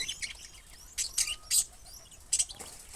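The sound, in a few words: pigeons and pigeon chicks in a cage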